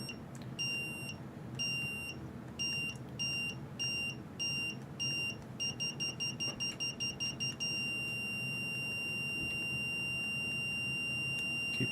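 A microcomputer emits electronic beeps: clusters of sharp, high-pitched tones in irregular bursts that quicken into a rapid looping pattern before giving way to one sustained tone, loud and close with no talk.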